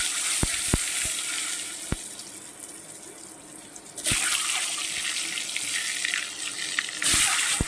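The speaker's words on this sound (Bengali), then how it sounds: "এবার আমি আস্তে আস্তে করে ডিমগুলো ভেজে নেব।" Eggs frying in oil in a wok, seasoned with salt and a little turmeric, give a steady broadband sizzle with a few sharp utensil taps near the start, and the hiss swells louder twice midway.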